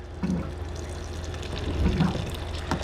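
Hot water poured into a pan of picadillo as it cooks, a steady splashing, gurgling pour heard close by with no talking.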